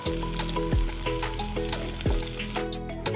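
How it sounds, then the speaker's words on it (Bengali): Chopped tomato sizzles steadily in hot oil with fried onions and mutton fat, a close, continuous frying hiss with a few scraping stirs of the spatula against the pan. "টমেটোটা দিয়ে আবার কিছুক্ষণ ভালো করে ভেজে নেব"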